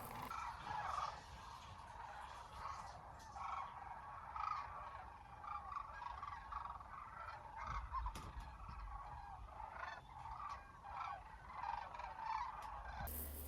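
A distant flock of thousands of sandhill cranes calls continuously in Arizona, overlapping bugling and rattling cries rising and falling without pause.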